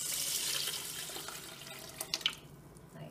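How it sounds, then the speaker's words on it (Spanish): Tap water pours into a pot of lentils for a coconut curry, a steady bright stream that tapers off into a few drips and splashes near the end, close up with no voices. "Y la vamos a terminar de cubrir con agua."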